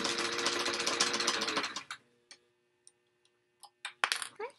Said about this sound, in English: I'm just going to sew down these darts, remembering to backstitch it, both the top and the bottom.